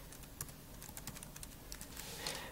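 Someone types a Wi-Fi password on a 13-inch MacBook Pro keyboard: a quiet, close run of light, irregular key taps lasting a couple of seconds, with no talking.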